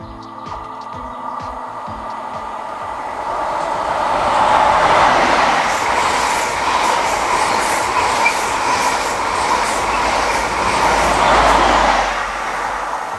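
The Midland Pullman HST passes close by on a railway line. The roar of engine and wheels swells and holds loud for several seconds with rhythmic clatter over the rail joints, then begins to fade.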